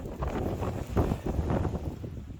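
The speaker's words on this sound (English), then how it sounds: "It's been a little windy." Wind buffets a microphone outdoors on the Pacific Crest Trail during heavy winds, a steady low rumbling roar with gusty swells and no voices.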